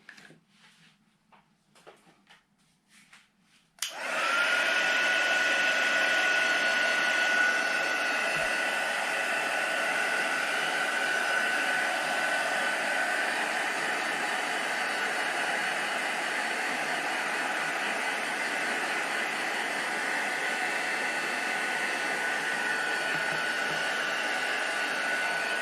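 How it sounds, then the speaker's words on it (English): A heat gun drying paint on a pebble switches on after a few seconds of faint handling clicks and then blows with a loud, steady, close whooshing roar until the end. "you let it dry or use a heat gun"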